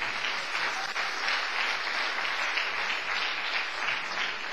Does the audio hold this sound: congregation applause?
yes